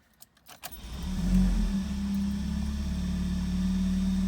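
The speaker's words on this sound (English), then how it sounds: "Now you can start up the car." A Honda CR-Z engine starts after a few clicks and key jingles, with a short crank that settles into a steady low idle hum, close and continuous, with no talking.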